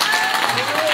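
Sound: audience clapping at the katha

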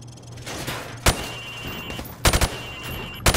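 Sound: rifle fired from the hip at targets in Call of Duty video game

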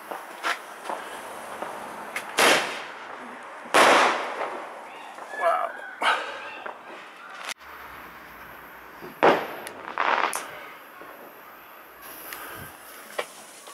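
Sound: Bad Boy Colour Bomb firework going off

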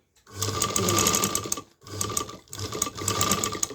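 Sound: sewing machine stitching fabric

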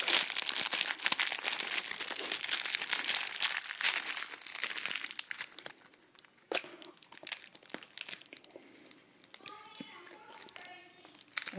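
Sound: plastic packaging being crinkled and torn off snack cakes

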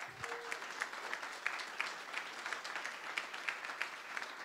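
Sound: applause at a graduation ceremony

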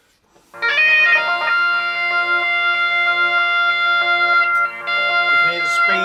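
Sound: electro bagpipes through delay pedal with changed delay speed

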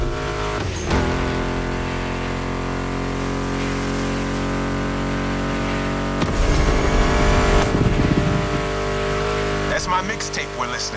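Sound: Ford Mustang muscle car engines in video game The Crew Motorfest

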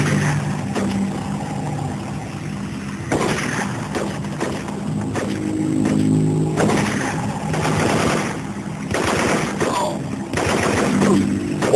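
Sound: gunfire in Marine Sharpshooter 2 video game

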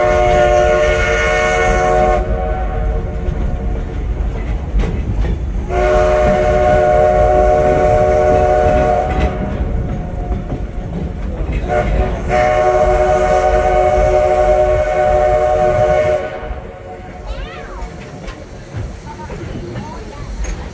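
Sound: train whistle signal, two long one short one long, echoing over meadow

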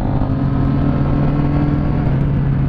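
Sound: motorcycle engine, a Shineray resembling a Kawasaki Ninja 300

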